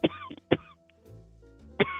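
An adult coughs several times at close range, a quick pair of harsh bursts followed by another after a short pause. A low murmur sits between the coughs.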